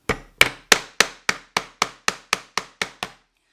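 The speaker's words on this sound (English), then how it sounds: "So you notice what I like to do is kind of choke up on the hammer when I start nailing" A hammer drives a nail into wood while a small piggy bank is assembled, about a dozen sharp, evenly spaced strikes that come close and loud and ease slightly in force toward the end, with no talk over them.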